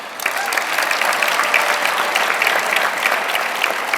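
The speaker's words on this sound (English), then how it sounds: "Give yourselves a hand of applause" Graduates clapping at a medical academy graduation ceremony, dense sustained applause from a large crowd, loud and even from start to finish.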